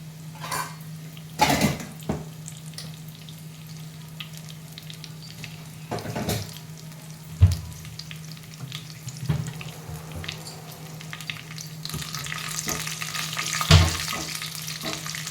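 Dried red chilies and garlic cloves crackle and sizzle in hot oil for a mango-piece pickle tempering, a steady frying hiss with a few sharp pops and stirring clatters, close and alone.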